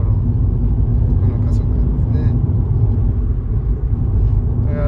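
Subaru Legacy B4 Blitzen with a flat-six engine accelerating smoothly, heard from inside the cabin as a steady low engine and road rumble with no distinct peaks.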